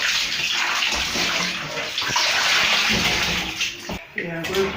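Food being washed under running water from a tap, a steady broadband splashing rush that continues almost without a break, with brief clatters and some talk over it while a sauce is being prepared.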